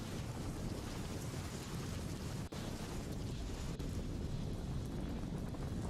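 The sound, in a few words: heavy rain in Gujarat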